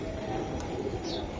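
A racer pigeon gives a short, soft, low coo over a quiet background, with one tiny high peep partway through.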